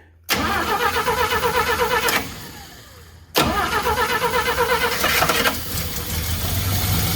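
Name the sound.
engine starting on a car after carburetor work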